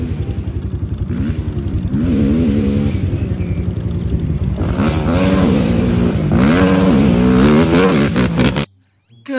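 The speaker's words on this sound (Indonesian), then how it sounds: "Wow, ada motor ATV." A small ATV motor revs loudly and continuously with rising and falling pitch, close by, before cutting out abruptly near the end.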